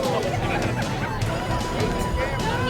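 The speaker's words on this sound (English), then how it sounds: "Was a big crowd on hand for this one, as you might expect." A crowd in the stands at a high school football game makes a continuous babble of many voices, close and steady, with a commentator's voice running over it.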